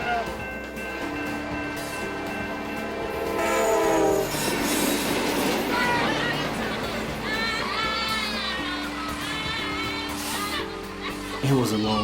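A passing train sounds its horn loudly at a railroad crossing, sustained blasts over rumbling cars and squealing wheels with some clickety-clack, heard from aboard a school bus, with faint talk in the background.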